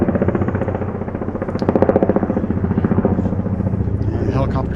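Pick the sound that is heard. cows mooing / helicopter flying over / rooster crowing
helicopter flying over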